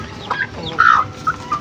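Backyard hen, a Rhode Island Red–line mother bird, giving a few short clucks and a brief squawky call at close range, alone without talk.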